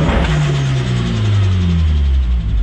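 A 1.8T-swapped ZZW engine holds steady on launch control, a loud, continuous droning rev with a slight rise and fall in pitch and no pause, alone and close up.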